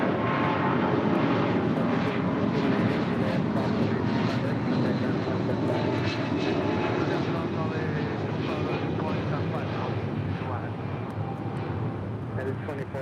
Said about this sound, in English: This China Cargo 777 might be heading to the northeast corner of the South Complex